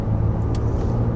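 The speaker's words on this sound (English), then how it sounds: "Has a pleasant sound to it too, a nice little V6 burble to it" A V6 engine with a 9-speed automatic gives a steady, close, low burble under acceleration, a continuous rumble with no break or shift.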